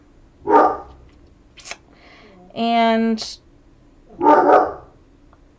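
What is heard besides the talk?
dog barking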